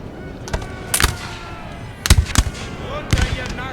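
Musket volleys from foot guards and musketeers in Napoleon Total War, fought on a Pyramids battlefield. Sharp, crackling shots come in irregular clusters over distant battle noise, with no speech.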